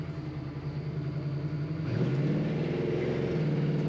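A 1939 Ford street rod with a TPI 5.7-litre V8 accelerates from a low rumble. The engine note rises and swells steadily partway through, close and continuous, with no voices.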